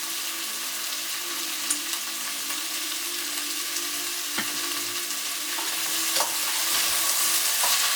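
Beetroot masala spices sizzle steadily in hot oil with tomato, turmeric and salt, a constant close hiss broken by a few soft clicks of stirring.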